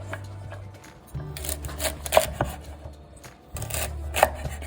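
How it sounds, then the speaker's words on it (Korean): A knife chops garlic scapes into 5 cm pieces on a board, with irregular crisp cuts and thuds in two bursts, close and clear with no talk. "콧대를 잘라내고 5cm 정도로 잘라줍니다."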